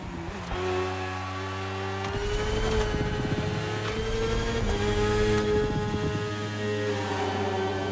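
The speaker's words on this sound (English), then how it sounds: "The one you're riding is the S1000 R. Is what we call a superbike." BMW S1000 R superbike in The Crew Motorfest racing game, its engine droning and revving steadily throughout, loud and continuous with shifting pitch.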